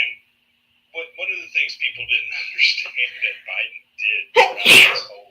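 A single loud, sharp sneeze bursts out near the end, right after a stretch of steady talking by a nearby voice.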